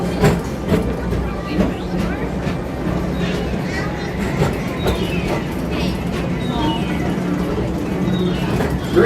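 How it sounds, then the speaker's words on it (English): Tomorrowland Transit Authority PeopleMover ride vehicle gliding along its track at Magic Kingdom, giving a steady low rumble with soft rhythmic clacks and hums as it moves, under a background of park sounds and voices. "Welcome aboard the PeopleMover, presented by Enterprise."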